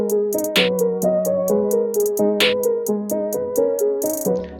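A programmed drum beat with steady kick and hi-hat patterns, a bright snare crack landing on the third beat of each measure, playing alone with a repeating tonal bass line underneath.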